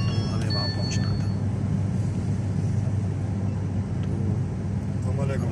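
A car rolls along a road on the way to an award ceremony in Sialkot, its low engine rumble and road noise steady throughout, with someone talking over the top.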